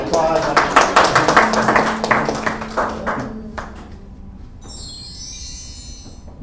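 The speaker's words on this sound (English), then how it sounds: "Round of applause" Audience applause at a music therapy conference presentation, dense clapping for about three seconds that thins out and fades, followed by a quieter tail with a high electronic tone.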